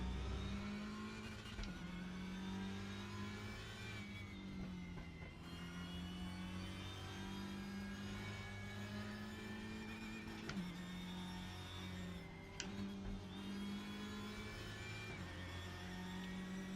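Race car engine in the Raceroom sim racing game running steadily and loud for the whole stretch, a sustained drone that sags and recovers as it bogs down in second gear, with no voices over it.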